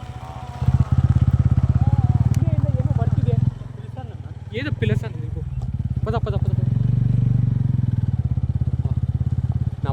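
A motorcycle rides over a rough, broken road, its steady low engine drone continuing throughout with rattling clatter from the bumps, while someone talks over it.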